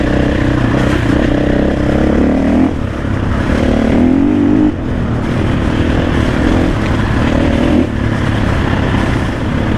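An old Honda XR motorcycle, around 25 years old and burning as much oil as fuel, runs steadily and loud nearby, its engine droning and rising and falling slightly in revs, with no talking over it.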